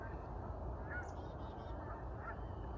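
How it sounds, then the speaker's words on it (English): A few faint, distant honks from geese flying south drift over a steady background hiss, spaced out across a couple of seconds. "They're headed south. The geese are leaving, but not me."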